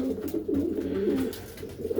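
Breeding racing pigeons coo in a loft, overlapping throaty rolling calls close by that continue without a break for a couple of seconds.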